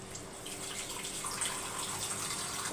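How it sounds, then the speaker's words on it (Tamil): Water is poured into a mixer-grinder jar, a steady continuous splashing gush for a few seconds, close by, with no talking. "கொஞ்சம் தண்ணி சேர்த்துக்கலாம்."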